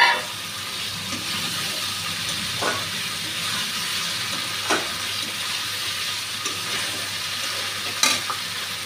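Steady sizzle of eggs frying in a pan with spice paste fills the clip, a constant hiss with a few brief clinks or stirring knocks scattered through it.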